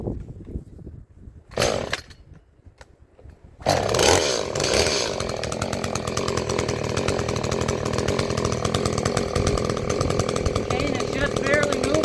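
An Echo CS-310 chainsaw fitted with an aftermarket carburetor starts after a few pull-cord tugs, then runs at a steady, slightly high idle outdoors, close and loud with a continuous buzzing drone.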